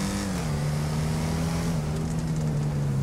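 Emperor Vectre tuner car in GTA driving game, its engine droning steadily with a slowly shifting pitch as it comes off throttle on overrun, continuous and fairly close, with no distinct backfire pops standing out.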